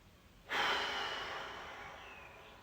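A single long, breathy exhale during an exercise workout, starting abruptly and fading slowly over about two seconds, close to the microphone.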